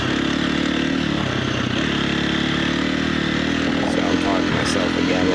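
A dirt bike races in an AMA D-14 hare scramble at Muskegon, its engine buzzing steadily and close with shifting revs as the rider moves over rough ground, a voice speaking over the engine throughout.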